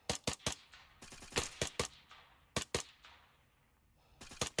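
Close rifle fire during a military-style CAG operation, with rapid bursts of loud sharp shots in uneven clusters and brief lulls between them, and no voices over the firing.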